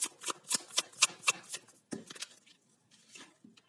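Tarot cards shuffled by hand, a rapid run of crisp riffling flicks up close followed by a few softer scattered taps and slides, no talk.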